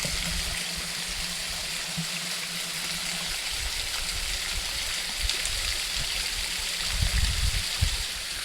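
A river stream in Hong Kong rushes steadily and evenly close by, a continuous watery wash with a few heavier low splashes toward the end.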